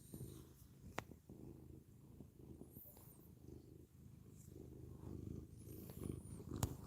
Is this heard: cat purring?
yes